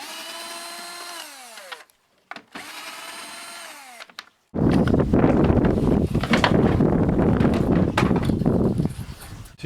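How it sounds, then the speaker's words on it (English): A power drill whirs in two short bursts with pitch rising and falling, then a loud, sustained grinding of the drill removing an 8mm bolt, close to the mic. "Nice to work with a drill."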